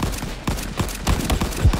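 Rapid gunfire in a World War 2 battle video game, including a Remington shotgun, sharp close shots cracking in quick irregular bursts.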